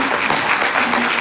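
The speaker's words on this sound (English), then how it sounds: "a round of applause for our apprentices over here too" An audience at a healthcare summit applauds apprentices, a dense, steady burst of clapping from many hands filling the short moment without pause.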